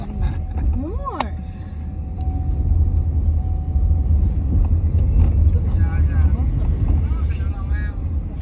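Steady low road rumble from inside a moving car on a Thanksgiving drive, continuous throughout, with voices chattering and calling out over it.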